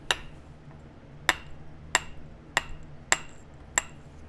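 Six sharp, evenly spaced glassy clicks ring out as flakes are trimmed from an obsidian biface during flintknapping, close and crisp over a quiet background with no talk.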